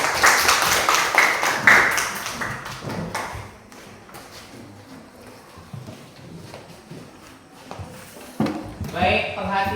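A classroom of students gives a round of rhythmic clapping, loud and close, fading out after a few seconds while a teacher keeps talking over and after it.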